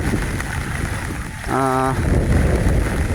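Steady, heavy wind from Cyclone Remal roars and buffets throughout, with a brief burst of a voice partway through.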